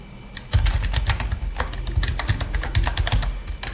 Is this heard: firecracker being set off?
no